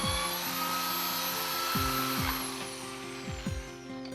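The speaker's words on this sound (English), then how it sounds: "be considerate of your neighbors when doing anything that creates excessive noise, like hammering or drilling" A power drill whines in short repeated bursts, each run winding up and dropping off, close and fairly loud over a steady background hum, with no talking.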